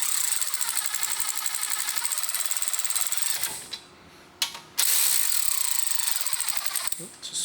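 Ratchet or power tool winding brake caliper bolts back in on a Mercedes GLA, a loud close whirring for several seconds, broken by a short pause and a brief burst, then whirring again.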